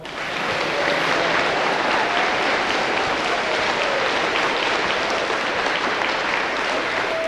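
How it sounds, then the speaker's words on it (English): An audience breaks into sustained applause to welcome a speaker being introduced, a dense even wash of clapping that starts after a brief lull and holds steady and loud to the end. "Let's give him a nice round of applause."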